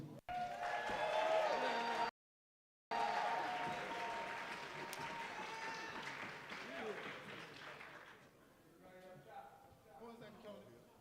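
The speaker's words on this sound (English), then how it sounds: "Give it up for our honorees" An audience at the President's Concert 2024 applauds its honorees, dense sustained clapping that briefly cuts out, then fades as a voice begins speaking.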